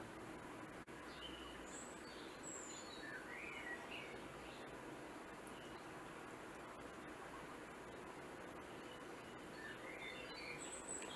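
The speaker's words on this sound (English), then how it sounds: "Hey, look at my laptop. There's birds." Bird chirps and tweets play quietly from laptop speakers over a steady hiss, with a few insect-like trills mixed in, faint and continuous throughout.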